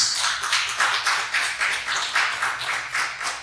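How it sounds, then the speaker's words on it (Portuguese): A church congregation claps in a steady, rhythmic beat, roughly four claps per second, the sound moderately loud and close with no talking over it. "vamos aplaudir Jesus"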